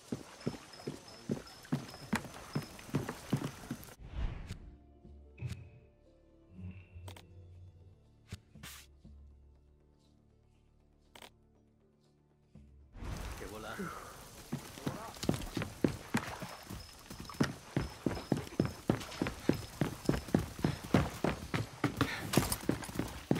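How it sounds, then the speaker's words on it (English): A horse gallops in Far Cry 6 with rapid, steady hoofbeats close up, pausing for a few seconds midway before resuming at full pace. "Magic horse."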